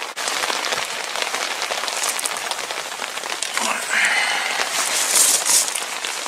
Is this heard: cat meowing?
no